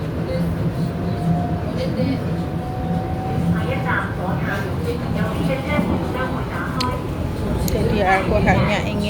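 Steady rumble and rattling of a passenger train in motion on a rainy day in Hong Kong, heard from inside the carriage with muffled background chatter and clatter throughout.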